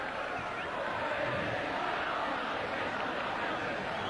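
A crowd roars at a 1989 schoolboys' rugby league cup final after a try, a dense, steady wash of cheering and shouting that holds at one level throughout.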